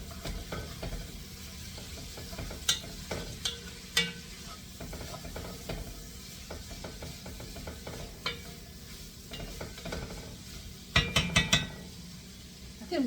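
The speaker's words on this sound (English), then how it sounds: "Stir your vegetables around." Vegetables stirred in a pan while cooking lamb shanks, a faint low sizzle with scattered spoon scrapes and clicks, and a louder clattering burst near the end, no voices.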